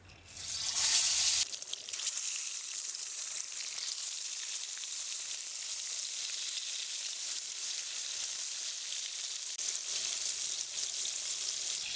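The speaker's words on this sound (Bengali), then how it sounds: "তেলটা আমার গরম হয়ে গেছে এবার মেখে রাখা মাছগুলো দিয়ে দিব" Pieces of marinated katla fish go into hot oil, setting off a loud burst of sizzling that settles into a steady, even hiss of frying, close and continuous without any talking.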